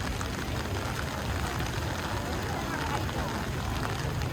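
Dense, steady rain splashing on a flooded street in Hoi An Ancient Town, Vietnam, with a murmur of voices and crowd noise mixed in beneath the downpour.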